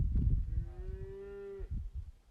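A single cow moos once, a drawn-out low call lasting about a second, faint and somewhat distant against low background rumble.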